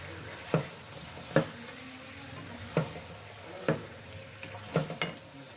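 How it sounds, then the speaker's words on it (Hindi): Chicken frying in a karahi over high heat sizzles steadily, with about six sharp spatula knocks and scrapes against the pan at irregular intervals, close and clear, with no voices. "अब ये हम चिकन इसमें ऐड करेंगे। इसके साथ हम पकाएंगे।"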